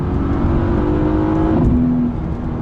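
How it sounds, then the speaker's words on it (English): A Mercedes-AMG GT S engine revs high and holds near the top of its range, then its pitch shifts and settles slightly lower, loud and close throughout. "Sounds good at the top end of the rev range"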